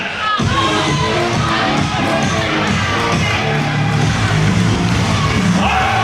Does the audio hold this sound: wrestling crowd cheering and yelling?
yes